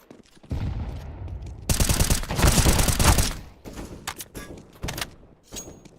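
Gunfire and an explosion in a first-person shooter game, with short bursts of shots, a dense roaring blast lasting over a second, then scattered sharp reports and a thump, loud and close.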